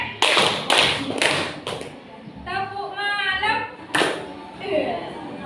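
Hands clapping in rhythm during a children's clap-along game, several sharp claps in quick succession, with a voice chanting between clap bursts and a few more claps near the end.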